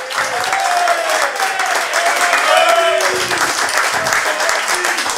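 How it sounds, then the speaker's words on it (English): A studio audience applauds the Aztecs head coach on a coach's show; sustained, fairly loud clapping from a crowd, with a voice faintly talking over it. "How about a round of applause for the Aztecs head coach, Mr. Rocky Long?"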